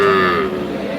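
A single close, deep moo from a Sahiwal dairy cow at a cattle market, loud and drawn out, tapering off within about a second.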